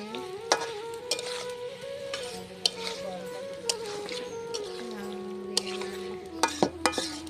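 Pigeon curry being stirred in a pan with a spatula, giving steady scraping and sizzling with sharp metallic clinks near the end, close and continuous.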